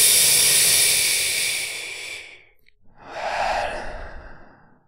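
A slow, deep breath taken close up: a long airy inhale that fades, a brief pause, then a fuller exhale that tapers off, with no speech.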